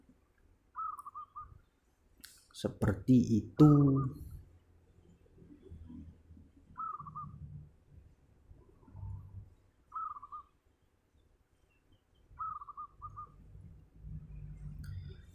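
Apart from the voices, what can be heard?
farm-bred local zebra dove (perkutut) cooing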